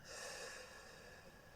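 A deep, long breath drawn in during a guided meditation, a steady airy inhale lasting over a second, close and fairly loud with no talking over it.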